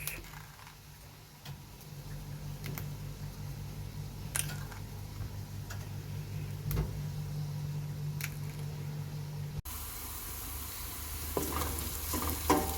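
Chopped onion sautés in a pan for peas, giving a steady low sizzle with occasional faint ticks and clicks, before the sound cuts to a louder, brighter frying noise near the end.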